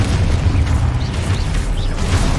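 Confringo fire spell explosions in Hogwarts Legacy make a dense, continuous low rumble of booms and bursts that crackle over one another, loud and close, with no voices.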